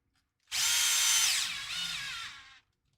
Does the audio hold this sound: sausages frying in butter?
no